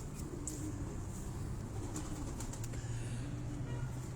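Gift pigeons from Kasur coo softly over a constant low background hum, a few faint calls and possible wing rustles heard at close-to-middle distance.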